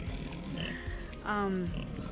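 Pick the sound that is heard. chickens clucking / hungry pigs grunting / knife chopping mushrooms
hungry pigs grunting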